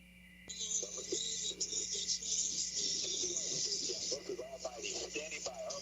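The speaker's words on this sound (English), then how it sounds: "Fucking crickets." Crickets chirp at night in a high, pulsing trill that runs steadily behind a quiet, low-level mix with faint murmured voices and a low hum.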